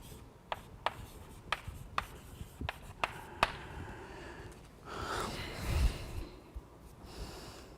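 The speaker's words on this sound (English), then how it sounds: "Okay, I can just write it here." Chalk or marker on a board during a mathematics lecture gives a run of crisp taps and short strokes, irregular and close, followed by a longer rubbing scrape and breathing, with no talking.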